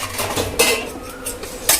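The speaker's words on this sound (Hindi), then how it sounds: "तो लगाते हैं बर्तन गाइस" Dishes, pots and cutlery clatter and clink as they are set out in a home kitchen, with sharp bursts of metal and ceramic knocks over a steady low background.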